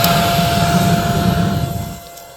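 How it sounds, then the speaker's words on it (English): A rechargeable mini vacuum cleaner fitted as a small blower whirs with a loud, steady motor whine during garden cleanup, then drops off and fades near the end. "it also has this nifty little thing that you can fit on the back side that makes it a mini blower"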